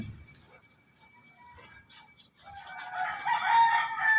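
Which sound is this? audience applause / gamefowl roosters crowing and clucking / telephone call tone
gamefowl roosters crowing and clucking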